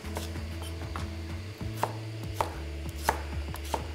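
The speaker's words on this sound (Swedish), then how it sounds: "skivar jag bara ner lite grovt och lägger i" A knife coarsely slices a yellow onion on a cutting board, giving a run of crisp, evenly spaced chops heard up close over a low background hum.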